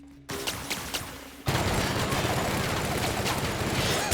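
Gunfire in The Outer Worlds, starting as a few spaced shots and swelling into loud, continuous rapid fire that fills the rest of the moment.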